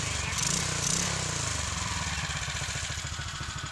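A Kustom Mega Moto minibike engine runs in a garage, its close, rapid, uneven putter pulsing steadily for a few seconds, with a brief higher whine early on.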